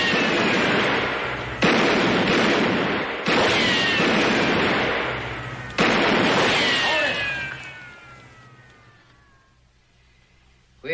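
Several loud gunshots ring out in a western TV shootout, spaced bursts with long ricocheting whines and echoing tails that fade into near silence.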